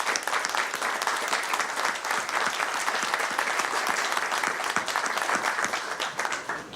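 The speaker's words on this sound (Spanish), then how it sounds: "quien debemos recordar con un fuerte aplauso." Strong applause from an audience at a political speech in the Dominican Republic, a thick, sustained clatter of many hands clapping, loud and even throughout with no speech on top.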